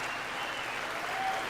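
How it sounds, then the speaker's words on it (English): Steady, dense applause fills a large chamber as an audience claps at the 2023 State of the Union address, continuous and even throughout with no voices standing out. "Why is everyone clapping except for the two people on the side?"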